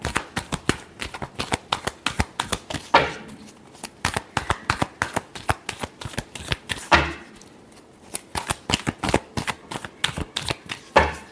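Tarot cards shuffled by hand in rapid bursts of crisp flicking riffles, close and steady, with two short pauses between rounds.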